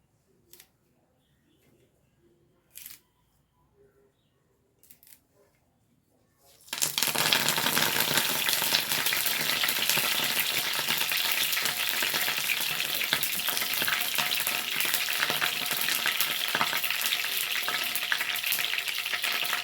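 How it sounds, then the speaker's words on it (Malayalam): Curry leaves dropped into hot coconut oil in a pan burst into loud, steady sizzling frying that fills the rest of the clip, after a few quiet clinks and faint taps at the start. "ഞാനൊരു പാൻ വെച്ച് ഇതിലേക്ക് കുറച്ച് വെളിച്ചെണ്ണ ഒഴിച്ചു കൊടുക്കണ്ടേ കുറച്ച് കരുവേപ്പില ഇട്ട് കൊടുക്കട്ടെ"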